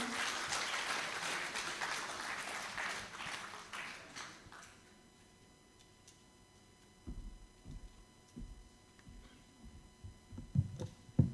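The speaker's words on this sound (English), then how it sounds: "please give a big round of applause" Audience applause at an academic conference, a dense burst of clapping filling the first few seconds before fading out, followed by quieter room noise with scattered thumps and shuffling.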